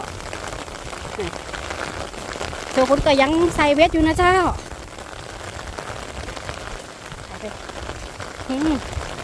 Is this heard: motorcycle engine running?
no